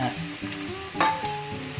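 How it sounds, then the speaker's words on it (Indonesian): Garlic sizzling and frying in plenty of oil with a utensil stirring and scraping the pan, close and steady. "Ini saya akan menumis bawang putih."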